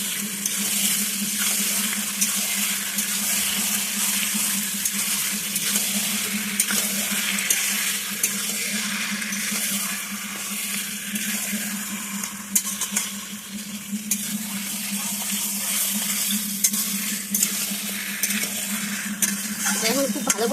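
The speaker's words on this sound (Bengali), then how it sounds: "এবার এখানে লবণ আর হলুদ দিয়ে মেখে রাখা মাংসগুলো এর মধ্যে দিয়ে দেবো।" Chicken pieces marinated in salt and turmeric fry steadily in a hot pan for a Bengali chicken kosha, a continuous close sizzle with occasional stirring scrapes and a low steady hum beneath, no voices.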